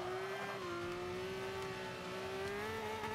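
Aston Martin car engine whining in reverse in the Forza 5 racing game, a steady, faint, high gear whine that holds one pitch and rises slightly across three seconds, with a low engine rumble beneath.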